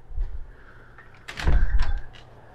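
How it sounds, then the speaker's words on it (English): A closet door in a motel room swings shut with a fairly loud thud and brief rattle midway, after a softer bump at the start, with quiet room tone around it. "we close that door."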